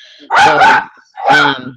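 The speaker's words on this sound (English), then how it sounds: "oh, sorry, that's my dog." A dog barks twice close to the microphone, two loud, drawn-out barks with a short gap between them, alongside a brief bit of speech.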